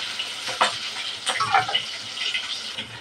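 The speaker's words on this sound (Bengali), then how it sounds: "চিংড়ি মাছটা আগে একটু ভাজা নেব।" Shrimp fry in a pan with a moderate, steady crackle. Scattered pops and a few stirring clicks come through, heard close and without talk.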